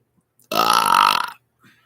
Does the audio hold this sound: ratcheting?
no